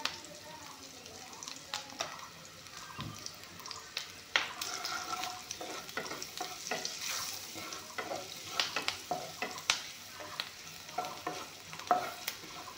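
Spices go into a pan for a pea and lentil curry, with quiet sizzling frying and repeated scraping stirs of a spoon throughout.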